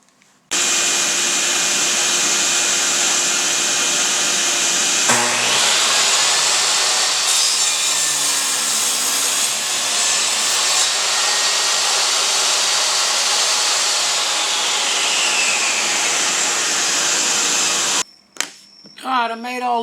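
A power saw cuts through an old wooden bed post in a long, loud, continuous pass. The pitch shifts as the blade bites deeper, then the saw stops abruptly near the end. A little low voice comes after.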